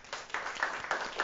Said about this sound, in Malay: Bagi tepukan untuk Shalini.